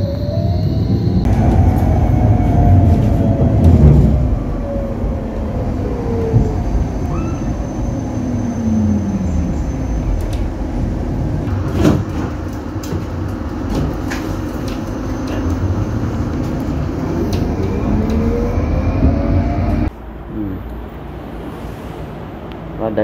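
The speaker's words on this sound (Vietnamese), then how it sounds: "Hiện tại là mình đang ở trên tàu điện." Electric train running, heard from on board: a loud continuous rumble of wheels and motor with rising and falling whine tones and occasional clacks, quieting slightly toward the end.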